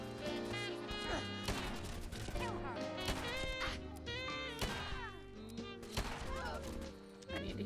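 Gunfire in the video game Fallout 4, sharp shots and crashes scattered among music and game effects, fairly quiet overall with a steady backdrop.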